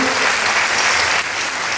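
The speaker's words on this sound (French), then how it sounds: "Merci beaucoup, applaudissements pour l'équipe de Jacques Garceau" A hall full of people at a public meeting applauds Jacques Garceau's team, a loud, dense, continuous roar of clapping close by.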